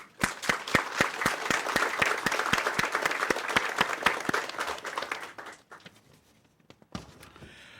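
Audience applause at a University of Maryland School of Dentistry event in Perryville, a steady round of close, crisp clapping that fades out after about five seconds, with a couple of stray claps near the end.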